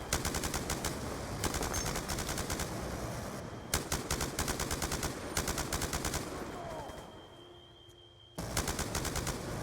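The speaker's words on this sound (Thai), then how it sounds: "สไนเปอร์นี่หว่า" Gunfire in the Call of Duty: Black Ops 2 video game, loud rapid bursts of shots repeating in clusters, broken by a brief quieter gap before firing resumes, with occasional speech.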